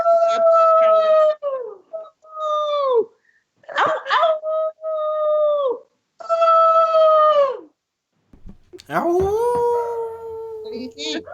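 Dogs howl in long, rising-and-falling wails, several overlapping howls in bursts with short pauses, close and loud; the howls sound partly like a human voice joining in.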